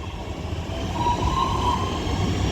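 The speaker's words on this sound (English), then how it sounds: "And also now passing through cross-country Voyager 221125 with the 1336 cross-country service to Manchester Piccadilly" A CrossCountry Voyager diesel unit, 221125, passes through Kidsgrove station on the West Coast Main Line's Manchester branch as a steady rumbling roar with a faint wheel squeal, close and continuous.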